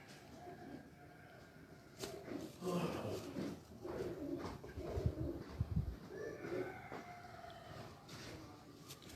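Gend breed pigeons give soft, low cooing among a gathering of pigeon keepers. Murmured talk and rustling fill the background, and the cooing comes in faint intermittent bursts.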